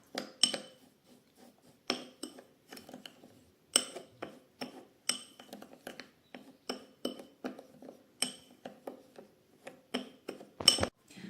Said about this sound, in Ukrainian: Перемішуємо гарненько, щоб у нас не було грудочок.